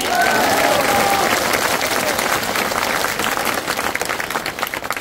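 A large public rally crowd in Khatora, Kolaras, breaks into loud sustained applause, dense clapping close and steady for several seconds before thinning slightly toward the end.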